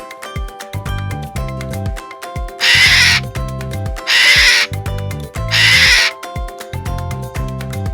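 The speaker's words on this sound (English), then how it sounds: "A parrot." A parrot lets out three loud, harsh squawks at regular intervals, each lasting about a second, over cheerful plucky background music.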